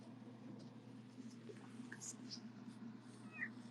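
A cat meows close to the microphone, with brief high calls scattered over a steady low hum; there is no clear talk.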